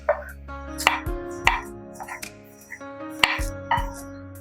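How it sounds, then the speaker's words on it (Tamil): Several sharp knife chops through tomatoes on a cutting board, spaced irregularly, fairly close, with a steady low hum in the background. "அது தக்காளியை கட் பண்ணிக்கலாம்"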